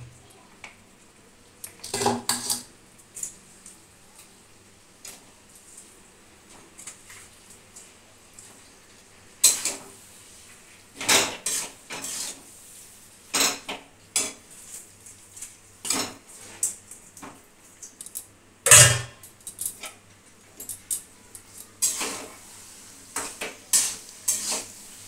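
Meat going into a pan for a home-cooked Bengali lunch of meat and rice, with sharp intermittent clatters and scrapes of pots, utensils and a stirring spoon over a faint background sizzle, no talking.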